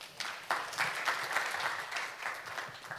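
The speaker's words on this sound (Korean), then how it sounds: "다시 한번 함께 해주신 7분께 큰 박수 부탁드립니다" Applause from an audience at an international environmental forum session on plastics, a steady dense patter of clapping hands that starts abruptly and continues throughout without voices.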